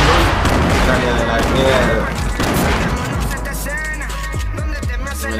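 Grenade explosions in Fortnite, dense booms and crashing blasts mixed with scattered gunfire, loud and continuous under excited player talk.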